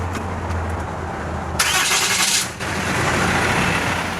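A BOSS WTW21 truck-mounted air compressor and 10,000-watt generator starting up: a loud cranking burst of about a second catches, then the engine settles into a steady, close running rumble.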